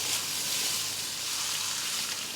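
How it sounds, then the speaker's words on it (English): Three chopped onions frying in a pan for bhuna chicken, a soft, even sizzle that hisses steadily throughout at close range with no voices. "Now we'll add 3 chopped onions and we'll cook them until they turn golden brown"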